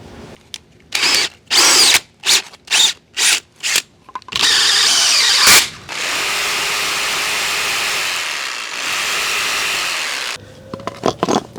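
A 1.5 inch hole saw on a power drill bores a hole, loud and close: a run of short trigger bursts, then two long steady cutting passes that wind down, with light handling clicks after.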